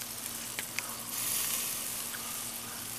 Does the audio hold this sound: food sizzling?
yes